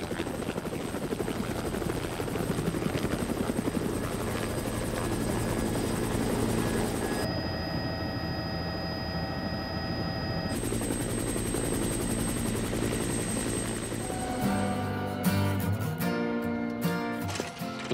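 A medical helicopter in flight carrying a patient to hospital, its steady loud rotor and engine drone continuous throughout, with no talking.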